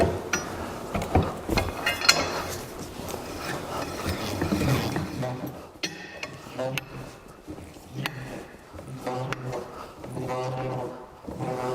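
A manual key tightens a plastic connecting pin into the thread of a sliding nut during cube assembly, giving close scraping and ratcheting clicks, some in quick rhythmic bursts, while a person talks.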